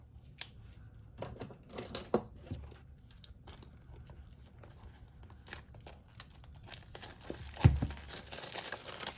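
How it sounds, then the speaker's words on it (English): Cellophane wrapping is torn and crinkled off a sturdy clamshell tarot deck box, with quiet scattered crackles and small rustling bursts close by and a soft thump near the end. "Break the cellophane."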